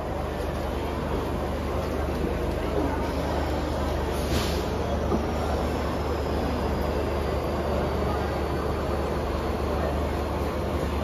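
A 12-car Mumbai slow local train bound for Kalyan runs at platform 1 of Kurla station at night, a loud continuous rumble and wheel roar filling the whole stretch, with no talk.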